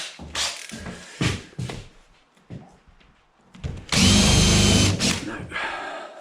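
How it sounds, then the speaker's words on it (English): A power drill with a spade bit bores a hole in several short bursts, then one longer, louder sustained run before stopping. "Right, finally drilled that hole."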